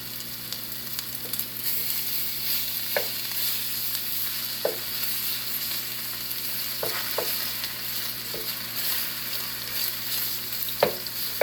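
Meat sears in an uncrowded pan, giving a steady close sizzle with occasional soft pops and utensil taps scattered throughout, and no talking.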